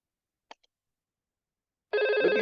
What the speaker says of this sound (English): The phone number, the phone is now ringing.